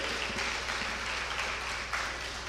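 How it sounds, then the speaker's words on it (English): An audience at a technical summit applauds in a sustained, even patter of many hands, moderately loud and continuous, with no voices heard over it. "Please, if you're clapping, let's do it better for him"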